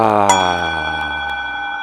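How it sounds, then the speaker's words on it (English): A struck gong rings out in a meditation session, a bright attack followed by a long, steady shimmering sustain of many stacked overtones that slowly fade, with a small second tap partway through. "just use that vibration from the gong to image your own vibration"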